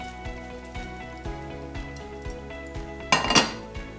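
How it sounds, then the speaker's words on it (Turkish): Prepared chicken and vegetable filling poured onto torn yufka pastry sheets in a pan for a tava börek: a run of light spoon-and-bowl clinks, then a brief louder wet splatter near the end. "Biraz önce hazırlamış olduğumuz harcımızı dökelim."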